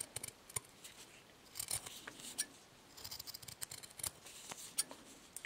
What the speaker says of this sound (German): Ihr könnt auch gut mit einer Nagelschere arbeiten.